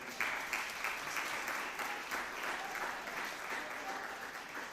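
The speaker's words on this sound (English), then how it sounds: "I think that deserves a round of applause" A graduation and awards audience applauds a long-serving youth business mentor, with dense, steady clapping from a large crowd at moderate volume throughout.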